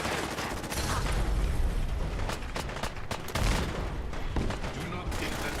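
Gunfire from a large hand cannon in Fallout 4, a dense run of sharp shots and bursts that continues without a break, mixed with other battle noise. There seems to be some speech underneath.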